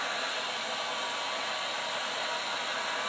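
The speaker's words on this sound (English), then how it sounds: "I'm going to use this hair dryer to speed this up a little bit" A hair dryer blows steadily on craft acrylic paint on a wood project, giving a loud, close, constant whooshing roar with no pauses and no talk.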